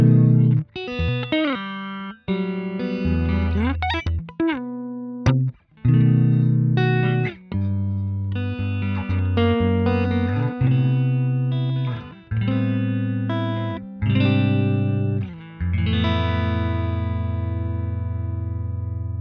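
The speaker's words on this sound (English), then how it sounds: "So I'm using Archetype Corey Wong for my basic kind of clean tone, and that sounds a little bit like this." Electric guitar in a clean tone through the Neural DSP Archetype Corey Wong plugin, playing a series of ringing chords with sharp attacks and short gaps between them, loud and close with no talking.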